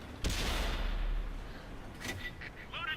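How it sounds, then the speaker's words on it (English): A tank cannon firing in World of Tanks, a sharp loud boom followed by a long rumbling decay, then fainter clanks and game effects. "we can still get an effective shot off onto the AMX CDC"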